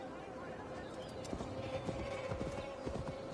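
Horse hooves clip-clopping at a steady riding pace through an untamed Gloucestershire forest in the video game Assassin's Creed Valhalla, a continuous rhythmic trot under ambient game sound.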